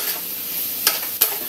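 Squash (upo) soup being stirred in a pot with a ladle, a steady bubbling hiss broken by two sharp scraping strokes near the end, close up.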